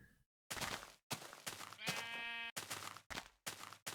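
A sheep bleats once in the middle of a stretch of choppy, bursty game noise, with brief gaps of silence between sounds.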